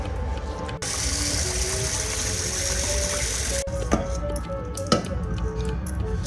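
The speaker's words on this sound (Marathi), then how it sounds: "अशा हाताने चोळून चांगले स्वच्छ धुवून घ्यायचे. 2 पाण्याने धुवायचे," Raw rice rubbed and rinsed by hand in a bowl of water for village-style rice papad, a steady grainy, gritty churning that runs continuously at close range, with faint tonal sounds in the background and no talking.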